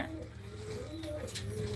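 Pigeons coo in a low, steady drone during a morning rooftop pigeon-flying contest, the murmuring continuous and fairly close throughout with no clear wingbeats.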